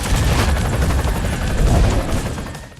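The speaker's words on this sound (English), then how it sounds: "There's a very large volume of explosions going on right now." Dense, continuous rumbling blasts and crackling booms from explosions in the racing game Split/Second pile on top of each other, loud and chaotic, fading slightly at the end.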